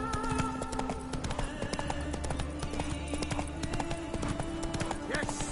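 A horse gallops in the video game The Witcher 3, its quick, steady hoofbeats continuous and close, mixed with game sound and a voice talking over it.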